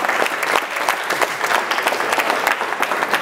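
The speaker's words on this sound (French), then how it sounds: "on peut tous s'applaudir très fort" A dense round of clapping from an audience at a participant presentation event, steady and lively for the whole stretch with no voices over it.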